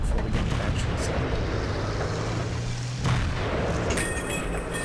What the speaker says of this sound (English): T-57 gets at least one damaging shot in before the E50M pulls out of cover